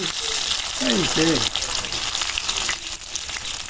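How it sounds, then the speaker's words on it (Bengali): Garlic and dried chilies fry in hot oil with a loud, steady, close sizzle that fills the whole moment, and a brief voice-like tone breaks through early on. "এখন দিয়ে দিব রসুন"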